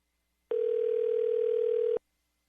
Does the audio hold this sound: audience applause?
no